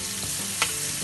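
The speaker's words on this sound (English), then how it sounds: "This one will be frying mushroom." Mushrooms with garlic frying in a pan with a steady crackling sizzle and one brief stirring scrape, close by.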